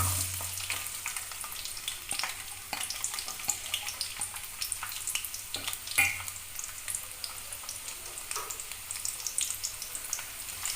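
Shallots and garlic fry in a pan while being stirred, a steady close sizzle and crackle with occasional sharper spatula clicks and pops throughout.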